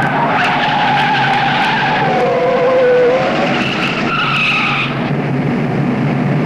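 A 1973 Ford Maverick Grabber brakes hard at Interlagos, its tires squealing in a loud, sustained skid with wavering high tones over a steady engine roar, close and continuous for several seconds.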